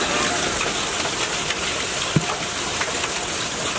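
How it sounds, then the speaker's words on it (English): Steady heavy rain during a tornado storm, a dense continuous hiss of falling water close by with a faint thump, filling the whole stretch. "It's just raining now."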